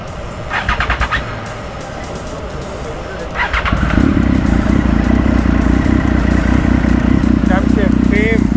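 A motorcycle engine starts partway through and settles into a loud, steady idle close by, with brief voices heard before it fires.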